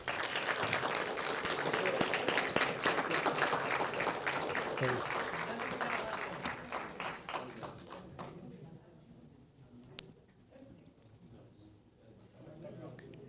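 An audience at an honorary citizenship ceremony in São Paulo claps in a full, lively round that gradually thins and fades out, leaving a quiet room with a single sharp tap near the end.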